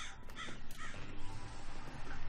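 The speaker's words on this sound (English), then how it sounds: "Hey, birds, keep it down, man." Crows caw just outside a window during a Binding of Isaac Afterbirth daily run, several harsh calls close and loud over a steady noisy background.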